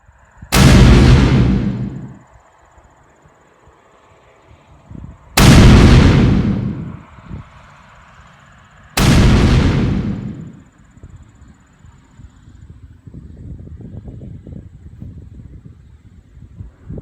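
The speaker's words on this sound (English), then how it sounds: "Artillery!" Artillery cannons fire three loud, booming blasts a few seconds apart, each ringing out and fading into a rumbling echo, followed by lower crackling and distant noise.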